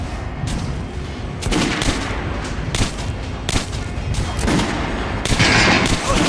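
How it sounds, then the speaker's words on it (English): Gunfire at a shooting range dummy in Metro Last Light Redux, loud sharp shots cracking in repeated bursts and single reports across the stretch, with a voice faintly present beneath. "Try shooting for the center of the regular dummy chest."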